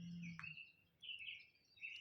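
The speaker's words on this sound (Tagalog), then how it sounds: "Sarap pakinggan ng mga huni ng ibon." Outdoor birds in Dixon, Missouri chirp in short, bright bursts, a few clear calls close by against a quiet background.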